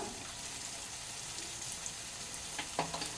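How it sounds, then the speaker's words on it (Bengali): Poppy seed paste with ridge gourd, potato and tomato being stirred in a pan, heard as a quiet, steady sizzle with a few soft spoon scrapes and clinks near the end. "পোস্তটাকে একটু ভালো করে নেড়ে চেড়ে মিশিয়ে দিচ্ছি"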